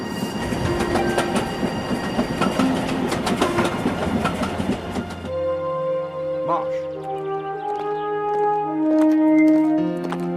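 A train running on rails, loud rattling clickety-clack with wheel and carriage clatter for about five seconds, then giving way to soft instrumental music.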